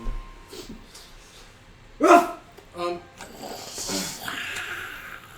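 A person imitates a dog with a voiced "woof" bark, giving a few short barky bursts separated by pauses, close and moderately loud, with some other vocal sounds between them.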